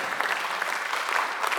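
A church congregation at a worship service applauds in a steady, dense wash of clapping that holds evenly throughout, with no voices standing out.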